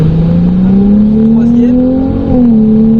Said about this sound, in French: On prend le filet gaz et là on peut réaccélérer.